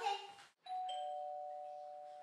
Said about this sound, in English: Remember to have a helper sound the doorbell so you can focus on the dog.